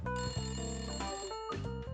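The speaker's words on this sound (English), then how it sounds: "That's the phone." A telephone in the video game Layton Brothers: Mystery rings with a bright, electronic bell-like trill, two bursts of ringing with a brief gap between them, clear and alone.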